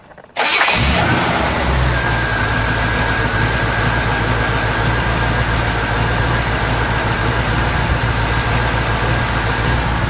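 A 327 V8 engine in a 1964 Chevrolet Impala Super Sport cranks and catches, then settles into a loud, steady, deep rumbling idle up close, with no talking.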